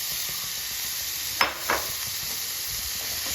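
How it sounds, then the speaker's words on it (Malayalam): Banana flower and bean stir-fry stirred in a pan, with two brief scraping strokes of a spoon about halfway through over a steady low sizzle, close and fairly quiet. "അത് നല്ലവണ്ണം ഒന്ന് ഇളക്കണം"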